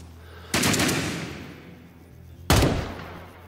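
Gunfire in the Vietnam War shooter Rising Storm 2: Vietnam, with two loud, close bursts of rapid shots about two seconds apart, each trailing off into a fading echo.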